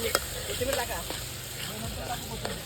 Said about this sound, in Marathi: वांग्याचं जे भरीत आपण करायला घेतलंय मस्त आता मस्तपैकी फ्राय करणार आहे